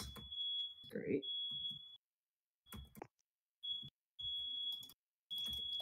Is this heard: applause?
no